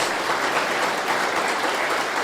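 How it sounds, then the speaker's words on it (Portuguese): Steady, dense applause from a church congregation during a youth worship service, an even wash of many hands clapping with no talk over it. "dê uma salva de palmas por esses jovens, louvando a Deus pela vida deles"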